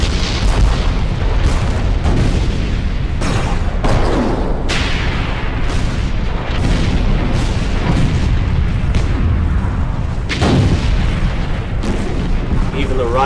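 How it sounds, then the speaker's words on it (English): Artillery bombardment of Civil War Vicksburg, with repeated heavy booms and blasts thudding one after another in a dense, loud barrage, as in a dramatized historical reenactment. "Grant's artillery tries to pound Vicksburg into submission."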